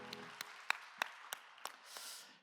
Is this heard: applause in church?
yes